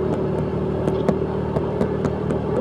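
Scooter engine idling or running steadily with a constant hum and faint rattle, a few sharper clicks and ticks over it, suggesting it needs servicing; close and continuous with no talk.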